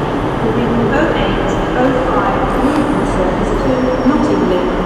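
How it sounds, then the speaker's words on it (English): Inside a passenger train running after rush hour: a steady rumbling roar of wheels and carriage noise, constant and close, with a low hum underneath and faint squeaks above. "It's a really nice train inside."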